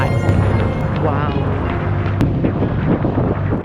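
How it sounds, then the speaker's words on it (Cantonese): The east exhaust vent of Hong Kong's Central–Wan Chai Bypass on the waterfront boardwalk blows out air with a loud, steady, broadband rushing roar, and voices are heard over it. "呢個叫做中環灣仔繞道東面排風口"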